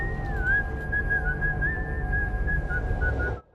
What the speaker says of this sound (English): Who whistles for he's a jolly good fellow?